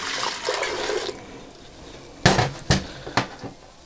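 Liquid stock and Guinness are poured into a pressure cooker for a steak and ale pie filling: a gushing splash of liquid, then several sharp knocks of metal and pot in the kitchen.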